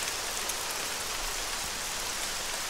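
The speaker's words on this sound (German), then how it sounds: "Man hört gar nichts mehr außer Regen." Steady rain pours in the Arma 3 video game, a constant even wash of drops across the whole stretch, moderately loud and with no voices.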